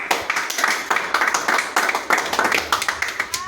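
Audience clapping at a talk, a quick run of distinct, fairly loud hand claps in an irregular rhythm, clearly separated beats from a modest group.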